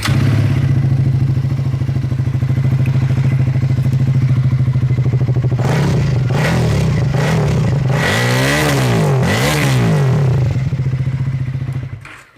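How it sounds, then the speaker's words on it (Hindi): A Triumph Speed 400 motorcycle's thumpy exhaust idles loudly and steadily up close, then is revved several times in rising and falling sweeps before settling back toward idle. "यार काफी थोड़ा थम्पी सा एग्जॉस्ट साउंड है इसका"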